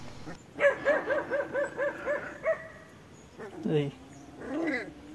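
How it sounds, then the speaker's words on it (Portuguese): A dog barks in a quick run of about seven sharp barks, fairly close, followed by a couple of lower growly yelps, while confronting a skunk. "A mãe apareceu e começou a latir."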